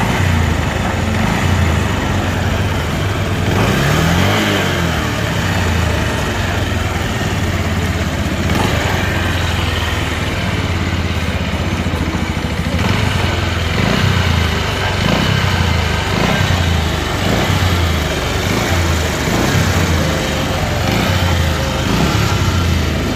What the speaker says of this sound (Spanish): Aquí te muestro el motor. Puedes ver cómo el motor vibra.